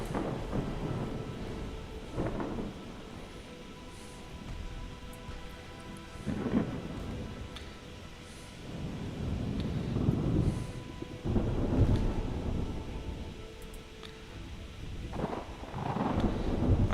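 A thunderstorm rages at sea in the naval game Ultimate Admiral Dreadnoughts, with repeated deep thunder rumbles rolling in every few seconds over steady rain and wind, no voices.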